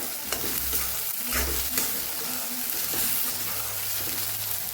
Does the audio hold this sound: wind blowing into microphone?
no